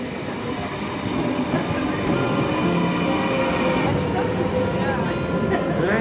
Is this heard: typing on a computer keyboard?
no